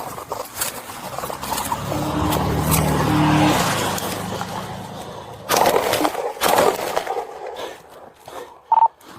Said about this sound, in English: He's driving east on 37